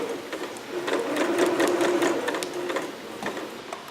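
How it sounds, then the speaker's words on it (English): Close up, a home sewing machine runs an ease stitch along a garment seam line with a steady rapid needle clatter and motor hum in one continuous run. "And then start doing your ease stitch."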